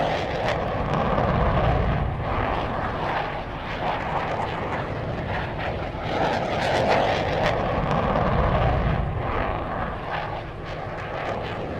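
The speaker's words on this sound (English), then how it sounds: "It would be our aviation or enemy aviation" Aircraft flying overhead in the tank combat video game GHPC, a steady loud broadband engine roar that swells and fades slightly over about twelve seconds with no talk.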